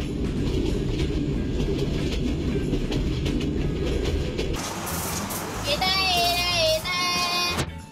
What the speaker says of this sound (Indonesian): Kereta penumpang yang dioperasikan untuk mengangkut warga maupun turis